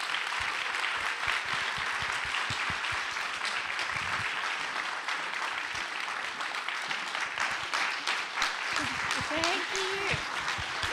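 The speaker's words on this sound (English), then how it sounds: "I would like to give all of these wonderful women a huge round of applause" An audience at a fireside chat gives a long, steady round of applause to a group of women, dense even clapping throughout with a few voices rising near the end.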